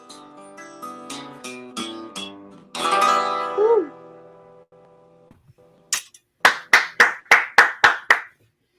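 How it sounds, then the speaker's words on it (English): A handful of people clap in sparse, distinct bursts, then a quick run of about seven sharp, loud claps close by, following a stretch of guitar and singing. "I can hear people clapping all over."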